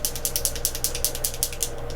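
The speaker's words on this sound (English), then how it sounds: "This does have a little shaker in it, so I'm going to make sure I shake it pretty good." Rapid rhythmic rattling of a small shaker bead knocking inside a makeup setting spray bottle as it is shaken, about ten quick clicks per second, close up.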